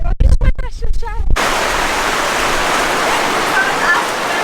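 A strong storm over a vegetable farm brings heavy rain and rushing water as a dense, steady roar after a brief burst of speech at the start.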